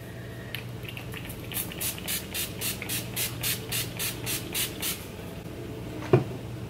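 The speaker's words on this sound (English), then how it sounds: "I'm just going to use my spray primer from NYX." NYX spray primer misted onto the face in about a dozen short, evenly spaced hissing pumps, followed by a small knock.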